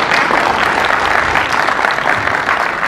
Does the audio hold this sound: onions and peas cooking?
no